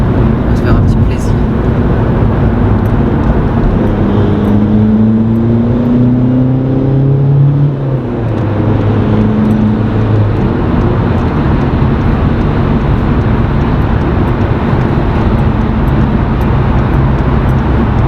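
A powerful Cupra car, around 600 horsepower, accelerates hard on a motorway at night, its engine drone and rising revs loud and continuous throughout, with people talking over the cabin noise.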